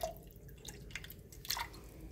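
A kitchen tap with weak water pressure trickles and drips softly and unevenly for a couple of seconds, with no voices.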